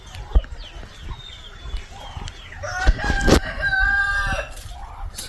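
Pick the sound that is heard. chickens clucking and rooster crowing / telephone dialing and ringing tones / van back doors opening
chickens clucking and rooster crowing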